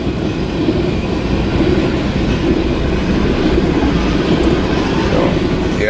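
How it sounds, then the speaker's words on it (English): A train rumbles past a railroad crossing in a steady, loud, continuous roar with faint clatter, heard up close from a waiting vehicle. "So we gotta wait for a train."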